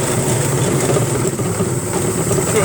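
A go-kart's small gas engine runs steadily and close, a continuous buzzing drone with no pauses.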